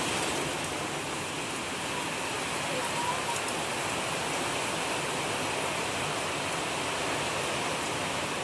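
Heavy monsoon rain pours down in a village, a dense, unbroken hiss of water that stays steady throughout.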